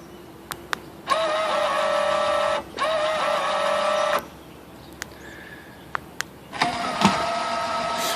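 An electric truck camper jack motor whines in steady bursts, starting and stopping several times with a high mechanical hum, close by, separated by short quiet gaps and a few faint clicks.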